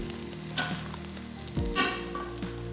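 Ribeye steak sizzles and fries steadily in a pan as butter is spooned over it, with a few soft clinks and scrapes of the spoon over the crackle.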